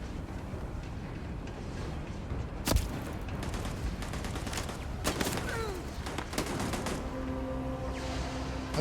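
Scattered gunshots and bursts of automatic fire in a sci-fi shooter battle, several sharp cracks amid a steady battle din, fairly distant and moderate in level, with no talking.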